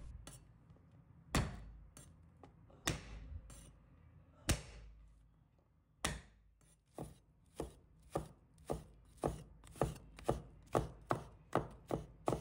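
A knife chops garlic into mince on a cutting board: sharp, close, isolated knocks at first, then a steady quickening run of taps, loud and alone with no talk.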